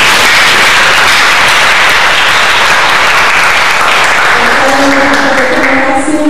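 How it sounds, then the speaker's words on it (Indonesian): A crowd at a presentation gives loud, sustained applause, thick and unbroken throughout, with a faint voice and a few tonal sounds showing up beneath it toward the end. "Kita sampaikan apresiasi dengan tepuk tangan"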